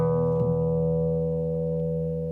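An electric guitar with a single coil pickup gives one sustained ringing chord that decays slowly and evenly, close and clear, with no one talking.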